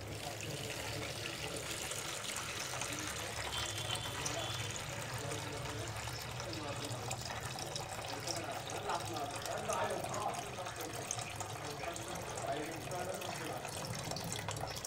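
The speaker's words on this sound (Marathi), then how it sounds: "एकदम हळू जेवढं निघेल तेवढं पाणी काढून घ्यायचे।" Excess water drains slowly from soaked millet grits, a steady soft trickle and splash like water running into a sink, fairly faint and continuous throughout.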